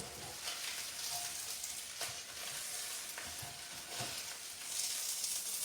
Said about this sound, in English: So we've got all of that there, that's frying up. That's my smashed sausage in there.